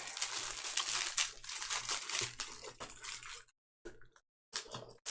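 Plastic packaging from a mail delivery crinkles and rustles close up as it is pulled open, in uneven bursts with a couple of brief silent pauses.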